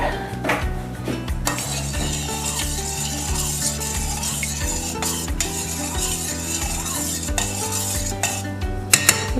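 Cream being mixed in a bowl for an orange pistachio tiramisu, a steady run of stirring with utensil clinks against the bowl, fairly loud and close, with no talking.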